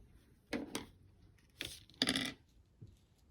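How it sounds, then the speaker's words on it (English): Scissors snip through paper during a children's paper-cutting craft lesson, with three or four short, quiet, crisp snips spaced unevenly in a quiet room. "So Anna, when you cut, you stop there and then cut all the way to there"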